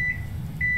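A video game microwave oven beeps twice, steady high electronic tones at the start and end, loud and close over a low hum.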